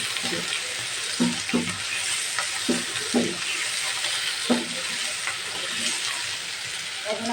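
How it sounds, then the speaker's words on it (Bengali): Ginger-garlic paste frying in oil with chilies, a dense continuous sizzle close by, with a voice talking over it at intervals. "পুরো 1 চামচের মতন আদা রসুনের পেস্ট দিয়েছি। এটাকে আমি একটু ভালো করে ভেজে নেব।"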